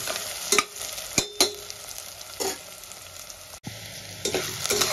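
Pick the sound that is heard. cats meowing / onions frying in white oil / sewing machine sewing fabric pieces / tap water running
onions frying in white oil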